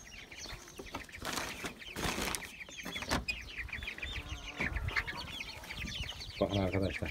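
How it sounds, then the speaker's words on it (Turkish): Chickens clucking in a newly built backyard coop alongside pigeons, soft repeated clucks and chirpy calls close by, with some rustling and a short burst of busier clucking near the end. "Tavuğumuz."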